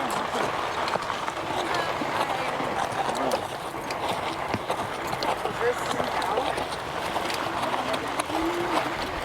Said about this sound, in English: So we got some horses on the trail here.